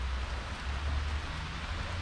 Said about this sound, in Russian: Вот это дождь.